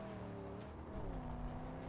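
Car engine from the Mad Max video game, a steady droning motor with rumbling low tones held at a constant level throughout, close and continuous, no one talking over it.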